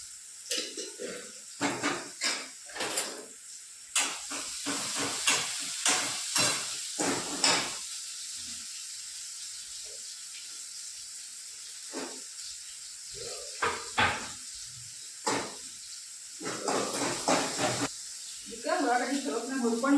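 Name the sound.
onions frying in a pan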